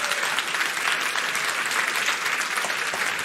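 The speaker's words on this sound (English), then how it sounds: "So let's give a round of applause to that" A conference audience gives a sustained round of applause, even and dense clapping from a crowd that holds steady from start to finish.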